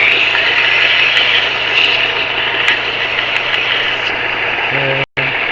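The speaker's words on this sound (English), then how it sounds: "Let's take off our burr. Take off our burr. The famous sander." A sander grinds burrs off the metal parts of a DIY wind generator with a loud, steady, close whine that runs almost continuously and cuts out abruptly near the end before starting again.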